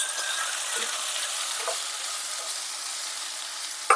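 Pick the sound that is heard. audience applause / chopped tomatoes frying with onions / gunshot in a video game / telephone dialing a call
chopped tomatoes frying with onions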